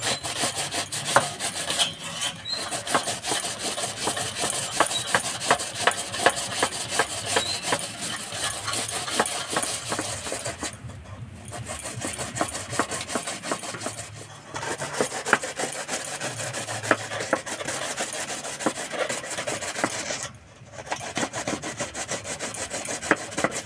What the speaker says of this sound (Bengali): এই ফুটো থালাতে কুমড়োগুলোকে কুঁড়ে নেব।